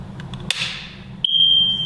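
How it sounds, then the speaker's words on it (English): A few soft clicks and a sharp snap, then an SDX smoke detector powering down sounds a single steady high-pitched electronic tone that holds until the end. "you'll actually hear the smoke detector power down"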